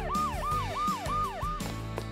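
Ambulance siren wailing in a steady rising-and-falling cycle, repeating about five times in quick succession, loud and close with no talk over it.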